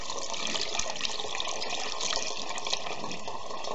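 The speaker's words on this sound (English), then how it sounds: "this is just clean water, tap water, and I'm just pouring it in here" Clean tap water poured steadily into the coolant system of a 2006 Honda Metropolitan/Ruckus scooter, a continuous close splashing fill with no pauses and no voices.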